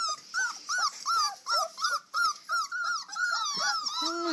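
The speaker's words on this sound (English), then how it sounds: "Oh, you guys are so whiny." Puppies whining close up in a rapid series of high, rising and falling squeals and whimpers, over a dozen cries in quick succession with brief gaps between them.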